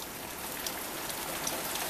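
Steady rain falls during a flood, a dense even hiss of drops on surfaces, moderately quiet and unbroken, with no voices.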